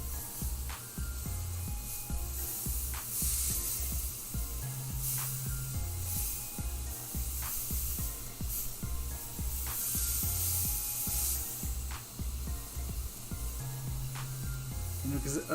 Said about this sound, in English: my top feed airbrushes to do some shirts instead of my, siphon feeds